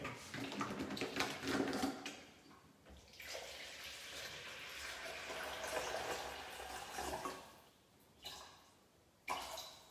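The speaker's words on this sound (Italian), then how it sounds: "Ci pesiamo l'acqua" About 800 grams of water poured in a steady rushing stream for Roman pan pizza and Neapolitan pizza dough, running for several seconds, then easing off into a few short splashes near the end.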